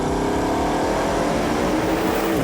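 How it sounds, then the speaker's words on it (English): Bugatti's 8-litre quad-turbo W16 engine runs loud and close as a continuous droning roar, its pitch climbing slightly as it revs. "The last ever outing of Bugatti's remarkable 8-litre quad-turbo W16 engine."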